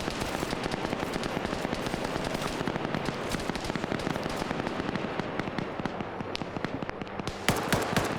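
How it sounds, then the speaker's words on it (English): A heavy machine gun in a multiplayer shooter battle fires long, dense, rapid bursts that run almost nonstop, loud and close, with a sharper burst near the end and no talking. "There's the HMG firing."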